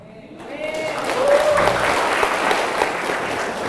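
An audience at a religious history lecture breaks into applause, a short burst of clapping that swells after a brief lead-in and holds steady to the end.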